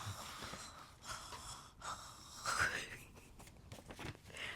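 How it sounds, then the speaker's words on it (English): A person breathes loudly and close up, with heavy, uneven inhales and exhales and snort-like gasps over soft rustling from latch hook crafting. "I can hear myself breathing."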